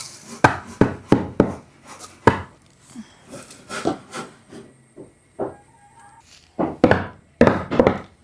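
Coconut-leaf-rib broom sticks are cut at their ends, giving a run of sharp, close chopping and snapping strikes in irregular bursts with brief scraping rubs between them.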